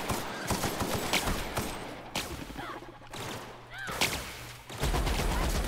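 Gunfire from a gun in The Outer Worlds: several sharp shots and short bursts spread across the clip, loud and close, with gaps between volleys and brief game sound effects in the quieter stretch.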